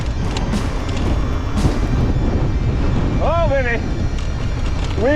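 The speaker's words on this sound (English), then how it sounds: "Wind gusts." Strong wind gusts buffet the microphone on a desert trail, a broad, rough roar under brief voices and a whistling call.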